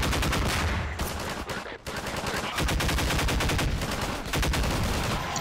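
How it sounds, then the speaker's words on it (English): Rapid automatic gunfire from a weapon in Half-Life 2: Episode One, loud sustained bursts of closely spaced shots with a brief pause, then continuing. "Oh, that was a gun."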